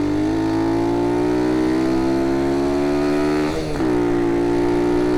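A modified Honda C90 with a 170cc engine and 28mm carb accelerates under load, its loud, close exhaust drone rising steadily in pitch, briefly dipping around a gear change, then climbing again.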